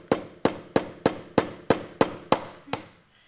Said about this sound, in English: we're going to proceed to pound the large dowel pin into the cam